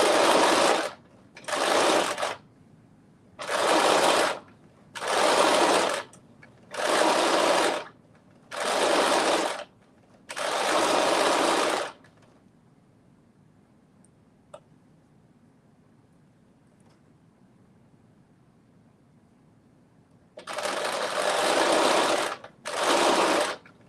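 A sewing machine stitches in short bursts of a second or so, seven in a row with brief pauses, then goes quiet for several seconds before two more bursts.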